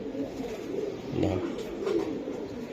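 Giribaz racing pigeons coo in low, throaty, rolling calls, several overlapping coos close by over a steady background hum, with no speech.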